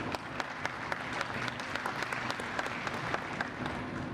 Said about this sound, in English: If I were you, I would have given them a round of applause.